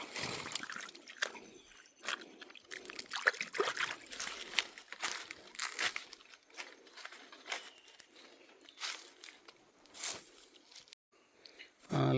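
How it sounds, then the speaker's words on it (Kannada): Irrigation water for a garden trickles and dribbles softly, faint uneven splashes and gurgles that come and go over several seconds, with low rustling nearby. "ಇದು ತೋಟಕ್ಕೆ ತೊಗೊಂಡಿರೋ ನೀರು,"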